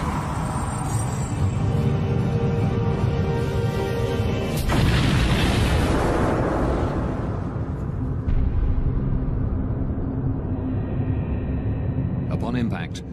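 Mid-air collision of a Bashkirian charter airliner and a DHL cargo plane at 35,000 feet, rendered as a loud, sustained roaring rumble that surges into a heavy broadband blast midway and keeps rolling, with a voice talking over it.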